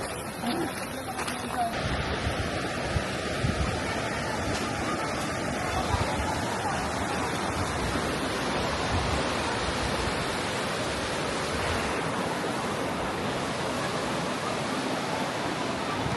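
A waterfall in Sierra Madre, Aurora, reached after a long climb of steps, giving a steady, loud broadband rush of falling water throughout while people talk over it.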